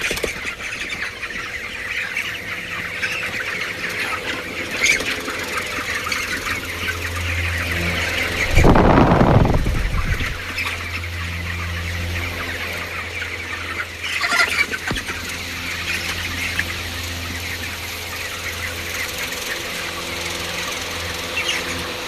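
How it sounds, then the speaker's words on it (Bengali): Chickens squawk, cluck and flap their wings close by as they are roused from sleep and start eating and drinking, with one loud burst of flapping partway through over a steady coop background. "গাইস আমি মুরগিগুলো উঠিয়ে দিচ্ছি। এখন দেখুন এগুলো মধ্যে এসে খাবার খাচ্ছে, পানি খাচ্ছে"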